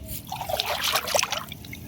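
Freshly caught puti fish flap in water, making brief splashy trickles and slaps, close and moderately loud, with no voices.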